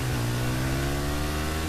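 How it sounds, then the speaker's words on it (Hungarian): A motocross racing bike in Battlefield 3 revs steadily up close, its mid-pitched engine drone holding a sustained, slightly wavering tone throughout the short burst. "Jó kis versenycross motor"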